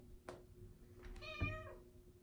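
A house cat meows twice nearby, a short call followed by a longer drawn-out meow over a low background hum.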